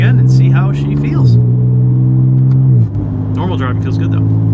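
A tuned 880whp BMW G80 M3 with an S58 engine drives on the street, its engine humming steadily and shifting pitch between gears, under people talking inside the car.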